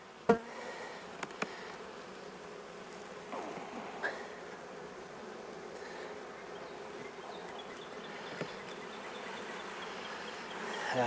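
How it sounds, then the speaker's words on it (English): Honeybees buzz in an open hive during an inspection on the day of a solar eclipse, a dense steady hum up close, with a few faint knocks and clicks from handling the frames. "There's a lot of bees."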